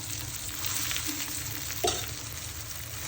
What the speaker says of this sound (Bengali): এখন আমি কচু শাক দিয়ে দিব।